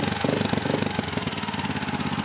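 A Honda XRM125 motorcycle engine idles steadily after carburetor tuning, a close, even, continuous putter with a fast regular pulse and no voices.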